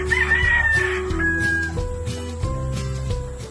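Gamefowl roosters crow loudly in overlapping calls at a game farm, over a steady low hum, with a sustained musical tone running underneath.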